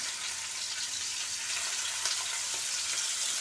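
Garlic and ginger fry in hot oil in a pan for hotel-style spicy noodles, giving a steady, close sizzle and crackle throughout with no talking.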